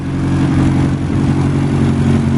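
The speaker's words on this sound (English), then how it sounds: "This engine just purrs like a kitten." A BMW M10 engine idles smoothly on a street, a loud, steady, even hum with a regular low pulse and no revving.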